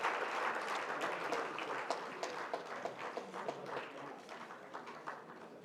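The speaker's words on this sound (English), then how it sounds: "Can we give a big round of applause?" Audience applause after a business convention session, a dense steady patter of many hands clapping that gradually thins and fades over several seconds, with no one speaking.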